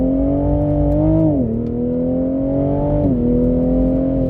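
A 2022 Toyota GR Supra 3.0 pulls hard from a standstill toward 100 km/h, its six-cylinder engine rising in a loud, tight drone, dropping briefly at two quick gear changes before climbing again; no voices.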